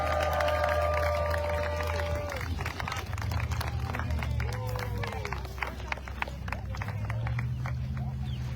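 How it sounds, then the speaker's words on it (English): Onlookers at a sea turtle release on a beach cheer and clap steadily as a turtle named Kiwi heads for the water. The scattered applause and calls stay moderate under nearby talk. "Kiwi needs some cheering on from the crowd here"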